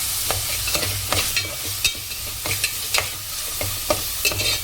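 Two tomatoes sautéing in a pan of oil for Chettinad chicken fry, a soft continuous sizzle broken by regular scraping stirs of a spatula, close and fairly quiet, with no talking.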